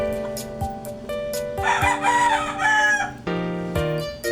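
A rooster crows loudly in one long, wavering call over a steady background of music-like tones and periodic clicks.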